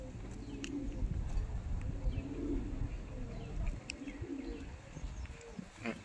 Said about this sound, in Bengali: আশা করি অনেক কম দামের মধ্যে এই কাসুরি পায়রাগুলো আপনারা পেয়ে যাবেন